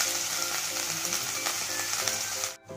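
Ginger garlic paste frying with chicken bones for chicken soup, a steady close sizzle with faint stirring that cuts off abruptly near the end.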